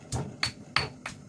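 Four sharp, hard pounding knocks at a steady beat, close and fairly quiet, as a pestle pounds chilies in a heavy Thai stone mortar.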